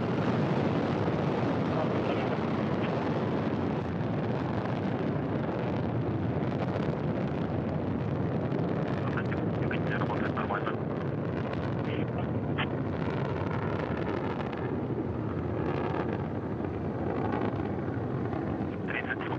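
A Soyuz TMA-14M rocket launch, with four boosters and a single engine, makes a continuous broadband roar with crackling texture. It stays loud and steady for the whole stretch, with a voice faintly over it.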